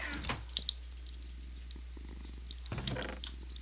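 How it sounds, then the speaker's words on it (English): A quiet cat purr rumbles low under a steady hum, broken by a couple of soft clicks and rustles, close to the microphone. "Oh, you're purring."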